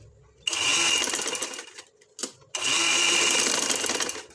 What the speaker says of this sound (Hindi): तो अब मैं इसको सिलाई लगा लूँगी।